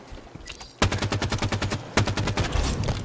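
Rapid automatic gunfire from the Halo 5 Infection mode rattles in two tight, loud bursts, each a fast even string of shots, with a short pause between them.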